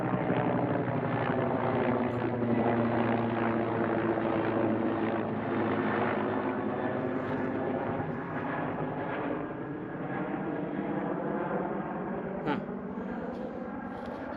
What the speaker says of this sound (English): I'm just trying to see what kind of helicopter that is. It's pretty damn loud.